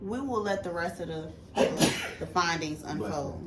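A single sharp sneeze bursts out in the middle of a podcast conversation, a loud noisy burst lasting about half a second, with people talking before and after it.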